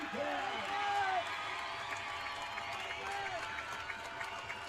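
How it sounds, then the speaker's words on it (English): A high school football crowd at a stadium in Horace, North Dakota, cheers and claps in a broad, distant swell that peaks in the first second and then eases into a steady murmur, with a voice speaking over it. "The crowd getting excited here in Horace"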